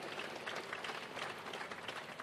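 Applause ripples through a joint parliamentary sitting in a large domed chamber, a continuous patter of many hands clapping at a moderate distance, fairly soft and sustained across the whole stretch.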